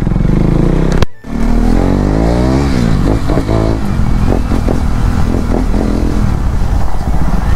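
A KTM Duke 390 motorcycle rides along with a loud, steady engine drone and wind roar, its revs rising and falling in waves, with a brief dropout near the start.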